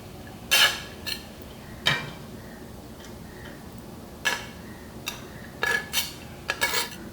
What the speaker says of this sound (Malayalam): ബാക്കി വെച്ചിരിക്കുന്ന ചിക്കൻ ഇതിൻ്റെ പുറത്ത് ഒഴിച്ചു കൊടുക്കാം